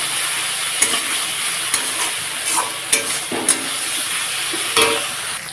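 Chilli and turmeric powder sizzle steadily in a pan for a vegetarian paneer curry, with a constant frying hiss broken by a few sharp scraping stirs, close and fairly loud, with no talking.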